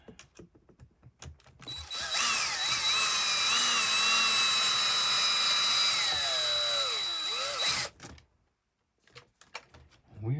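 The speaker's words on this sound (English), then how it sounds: "Turn down the drill, a couple of clicks." A power drill runs for about six seconds as a loud steady whine that shifts pitch near the end, with clicks and handling noises before and after.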